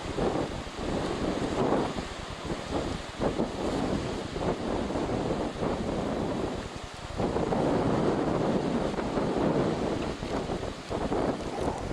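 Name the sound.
wind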